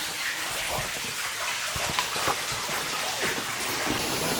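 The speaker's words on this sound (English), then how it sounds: "the waterfall is flowing quite well today" Steady broadband rush of a small waterfall flowing at Circle X Grotto, a continuous close wash of falling water with faint splashy droplets throughout, no voices.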